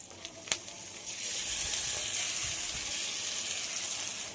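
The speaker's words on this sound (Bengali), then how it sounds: "আদা রসুনে যতক্ষণ না কাঁচা গন্ধ যায় ততক্ষণ একটু ভেজে নিতে হবে" Ginger-garlic paste and a blended mixture fry in a pan, a few faint clinks at the start giving way to a steady, close sizzling hiss that swells and holds.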